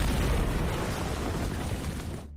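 A tank cannon firing in a war film, a heavy, booming blast with a long rumbling decay that fills the clip before cutting off abruptly.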